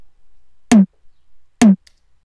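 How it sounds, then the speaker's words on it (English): Two punchy drum hits from a dubstep snare build, a compressed drum sample layered with an uncompressed tom sample, each a short sharp thump with a quick decay, spaced about a second apart in silence. "So that combined with the tom sample not compressed at all would sound like this."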